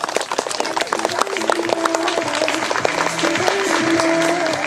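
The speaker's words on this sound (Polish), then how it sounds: "Wielkie brawa!" Audience applause at an outdoor show jumping competition during a prize ceremony, steady dense clapping from a crowd held at an even level throughout, with some tonal sounds running through it.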